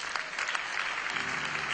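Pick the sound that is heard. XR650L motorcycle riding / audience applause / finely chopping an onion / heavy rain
audience applause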